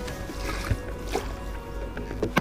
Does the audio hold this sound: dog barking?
no